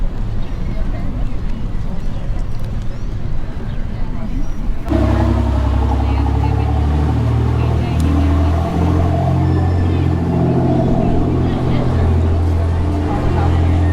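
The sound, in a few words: fast boat passing by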